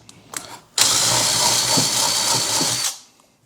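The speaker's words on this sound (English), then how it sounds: "I'm gonna go ahead and start to drill these extra holes" A power drill whirs loudly for about two seconds while drilling extra holes in a CNC71 angle kit, its pitch wavering as it bites, then winds down to quiet.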